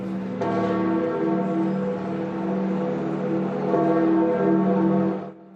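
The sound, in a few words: church bells tolling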